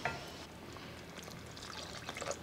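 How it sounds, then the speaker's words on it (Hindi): Water poured from a cup into a pan of Szechuan vegetable gravy, a soft steady trickle and splash running alone and close for the whole stretch. "एक कप पानी डाल दे रहे हैं इसमें"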